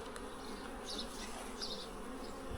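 Italian Cordovan honey bees hum faintly and steadily at a village hive, a soft continuous drone with no voices.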